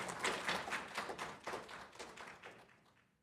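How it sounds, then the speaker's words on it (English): A small audience at a student showcase gives a student team a short round of scattered clapping that fades away within a few seconds. "another round of applause for Jobney"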